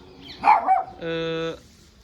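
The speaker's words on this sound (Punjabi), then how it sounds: "ਇੱਕ ਹੋ ਗਏ ਆ ਡੋਗੀ" A dog gives two quick barks, followed by a steady, buzzy, even-pitched tone lasting about half a second, then quiet.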